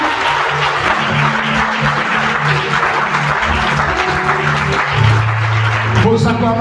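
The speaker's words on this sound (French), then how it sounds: "Vos acclamations sont très faibles." Large congregation applauding and acclaiming during a Sunday blessing service in church, a steady dense wash of clapping and crowd voices with music underneath throughout.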